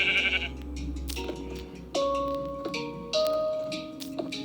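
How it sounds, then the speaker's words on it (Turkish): A sheep bleats several times close by, wavering cries that start, fade and return in separate calls over a faint low background hum. "Bu koyuncuk ne yapıyor?"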